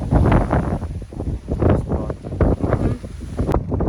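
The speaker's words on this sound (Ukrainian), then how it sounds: "Вітер тут просто нереальний" Strong wind buffets the microphone outdoors on a hike near a waterfall, a loud continuous rumbling roar with gusting surges and no voices.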